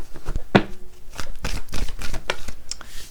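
Tarot cards are shuffled and riffled close up. There is a sharp flick near the start, then a continuous papery rustle while a voice speaks French softly underneath.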